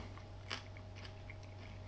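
One crisp crunchy bite into air-fried bacon with a well-rendered fatty edge, a single sharp snap followed by faint quiet chewing close to the mic.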